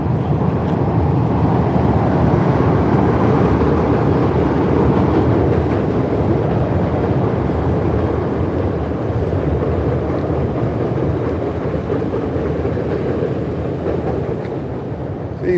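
A Chicago elevated Brown Line train passes on the L tracks in the city, a loud, steady broadband rumble and roar of wheels and cars that holds for the whole span and eases only slightly toward the end, with no talk.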